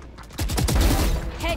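Shooter video game gunfire fires in a fast, loud automatic burst of closely spaced shots right up front, ending abruptly after about a second.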